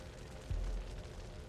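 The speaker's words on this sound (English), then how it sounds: "The drone successfully reaches the target and hits the cannon." A kamikaze drone strikes an artillery cannon during fighting in the Kupiansk region, giving a single muffled low boom that swells and fades over a steady background rumble, sounding fairly distant.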